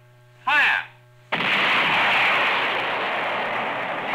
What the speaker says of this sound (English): Another Honest John is on its way to hit a predetermined target.